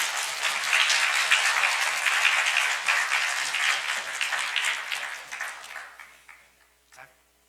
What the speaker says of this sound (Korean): 짧게 하시니까 박수가 나오네요